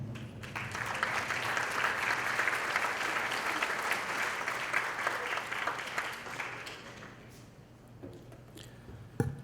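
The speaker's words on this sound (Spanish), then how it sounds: "a quien recibimos con un aplauso" Audience applause in a university lecture hall welcoming Dr. Miklos Lukács to the podium, a full, steady burst of clapping that thins and fades toward the end, followed by a brief thump.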